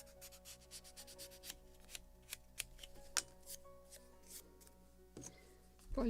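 Scotch-Brite pad polishing wooden deck parts of a Model Shipways kit of the 1776 gunboat Philadelphia, rounding the upper edges: quick repeated scratchy rubbing strokes, close and steady, with a few sharper scrapes near the end.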